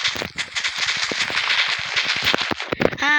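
Rapid chains of TNT blasts in the Minecraft video game crackle and pop in dense overlapping bursts, loud and continuous for a few seconds before a short tonal game sound at the end.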